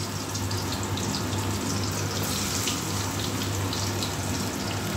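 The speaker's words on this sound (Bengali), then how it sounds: "তেলটা গরম হয়ে গেছে, মাছটা দিয়ে দেবো।" Large pieces of scaleless fish frying in hot oil: a dense, steady hiss that holds evenly the whole time, with no talking.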